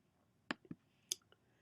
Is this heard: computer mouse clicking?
yes